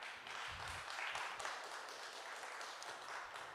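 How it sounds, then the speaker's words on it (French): An audience at a food event applauds a guest from an oil mill in Artois, with a steady, soft wash of many hands clapping at a distance and no talking. "que je vous demande d'applaudir, s'il vous plaît"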